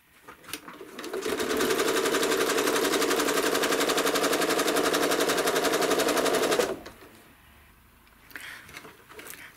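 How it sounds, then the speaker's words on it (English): A home sewing machine stitches hourglass quilt blocks with rulers, a loud steady hum of rapid needle strokes lasting several seconds before cutting off into quiet handling sounds. "Keep stitching your blocks in that way until you get to the end of the row."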